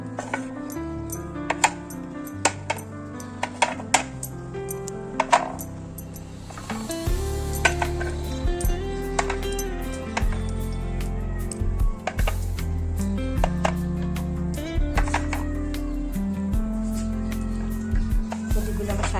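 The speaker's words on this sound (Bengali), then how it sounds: "এবারে প্রদীপগুলোকে আমি একটা থালার মধ্যে করে সুন্দর করে সাজিয়ে নেব।" Homemade clay oil lamps (pradip) for Diwali are set out one by one on a plate. Sharp clinks and hollow taps come in an irregular run, close up, with soft thuds between them.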